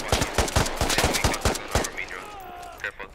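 Rapid gunfire crackles in the military shooter Squad, a dense string of close, sharp shots in quick bursts that stop abruptly, followed by quieter game sounds.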